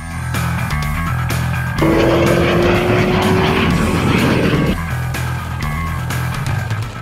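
An L-39 jet and a Corvette ZR1 race, with loud engine roar throughout, a surge of louder rushing noise and a rising whine as one passes close, then a steady drone.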